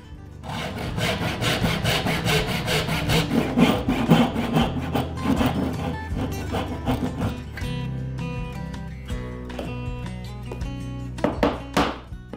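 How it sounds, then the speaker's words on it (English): Hand saw cutting dovetails in wood with a dovetailing jig, a rapid run of rhythmic rasping strokes that slows and pauses, ending in a few sharp taps, close and clear with no talking. "After cutting the dovetails with the saw"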